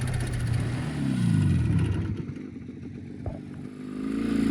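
Jawa motorcycle riding past on a rural road near a farm, its engine rising and falling in pitch as it accelerates, loud and close with rattling clatter.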